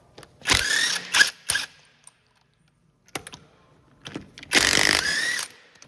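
A power tool spins 22mm tuner lug nuts off an aftermarket wheel on a 2011-2025 Dodge Durango, heard as a few short, loud, rattling mechanical bursts separated by near silence.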